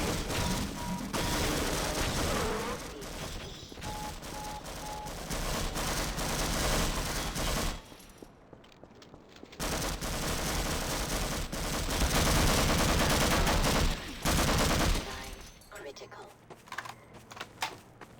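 Gunfire in the first-person shooter Half-Life comes in dense rapid bursts of loud, close crackling shots with brief pauses, mixed with game noise and a voice talking.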